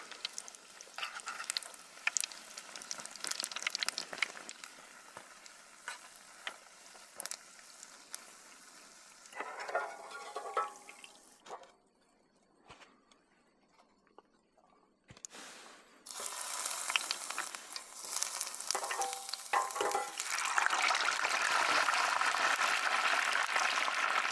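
Food deep frying in hot oil at a desert backcountry moto camp, giving a steady hissing sizzle that swells loud at the start and end, with a brief quieter lull in the middle.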